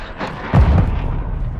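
A cruise missile strike explodes in Modern Warfare II multiplayer gameplay, a heavy booming blast with a deep low rumble that swells after a brief lead-in and lingers under game ambience.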